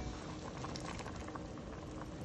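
Pork and oxtail boil vigorously in a pot of water for a Jamaican stew peas, a dense, continuous bubbling and crackling close up with no talk.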